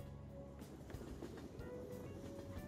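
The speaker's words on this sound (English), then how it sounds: "They updated the little train thing that goes along too" A small train in the Persona 5 Royal video game rolls along, a steady rumbling drone with faint rhythmic clatter and a low tonal hum, continuous at moderate level with no talking.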